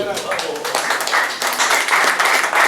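Audience clapping and applause at a civic ceremony in Ecuador honoring a guest, steady and fairly loud for about three seconds with bursts rising and falling, voices and talk mixed in underneath.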